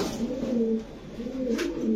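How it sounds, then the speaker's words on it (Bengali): Male pigeon cooing close by, a steady run of low, rolling coos repeating through the stretch with no talk over it. "নর কবুতর তো না এটা? হ্যাঁ হ্যাঁ, নর কবুতর ভাই।"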